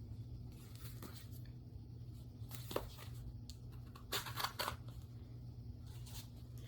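Faint crisp snips and paper rustles come in short clusters, close by, over a steady low hum.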